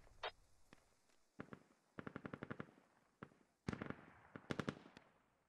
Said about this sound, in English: Oh, frag lands right on top of Burns.